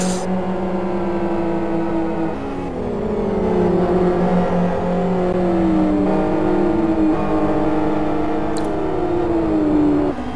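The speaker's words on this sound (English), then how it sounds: "Cars still racing, half an hour we have seen of the race." GT1 race cars scream past on track, their engines whining and rising and falling in pitch through gear changes, one car after another, loud and continuous.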